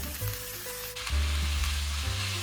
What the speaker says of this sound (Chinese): 放入葱白、姜丝，倒入鳝丝， 还是用中火慢慢煸炒